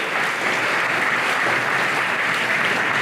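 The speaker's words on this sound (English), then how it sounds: "Another round of applause for our speaker, Mr. Hunter Gray" Sustained applause from an audience at a live-streamed school graduation ceremony, honoring a speaker. The clapping is steady, dense and fairly loud throughout, with no break and no talk over it.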